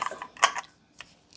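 A metal lid being screwed onto a glass jar of sour cherry sauce for winter, a few short clicking, ratcheting scrapes up close, then a pause and one more faint click.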